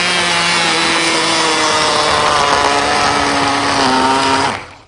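A food processor whizzes melted chocolate, a loud, steady, close motor whine with a slight pitch shift near the end before it cuts off abruptly, with no talking.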